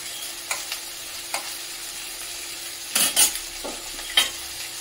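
Whole spices for tempering, bay leaf, garam masala and cumin, crackling in hot white oil for a Bengali mutton curry, with a soft steady sizzle broken by several scraping stirs of a spoon in the pan, close and wordless.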